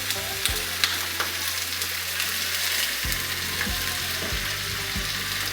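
Over a kilo of shrimp sauté with banana ketchup in a hot pan, sizzling and frying continuously while a utensil stirs and scrapes with repeated clinks and rattles.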